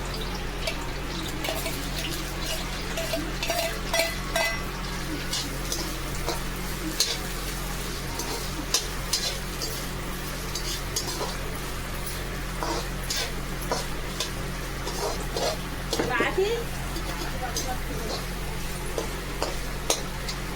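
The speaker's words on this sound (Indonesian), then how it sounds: "Ini tinggal aku tumis semuanya." Vegetables for a sabzi sauté in mustard oil in a pan, giving a steady low sizzle with intermittent stirring scrapes and clinks throughout, and faint voices in the background.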